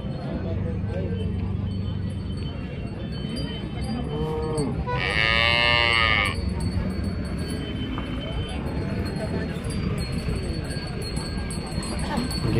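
Cows and buffaloes at the Sardar Nagar cattle market, one loud nearby moo rising clearly above steady crowd chatter and general market bustle, with people talking throughout.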